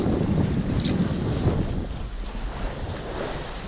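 A sailboat runs under sail offshore at over six knots, with a continuous rush of wind buffeting the microphone and water hissing and washing past the hull, loud and steady with no voices.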